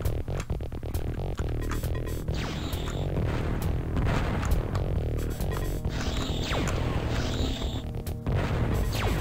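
Incoming missile in the Descent video game: sweeping whistling tones rise and fall over a dense, loud bed of thumping booms, crashes and droning game music, continuous throughout with no talking.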